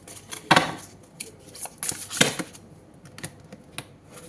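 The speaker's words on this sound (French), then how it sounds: "Allez, on prend une autre carte. Ah non, j'en ai deux, j'en veux une seule." Tarot cards drawn and handled by hand, giving a few sharp papery snaps and shuffling rustles in uneven bursts, fairly close and quiet, with no talking.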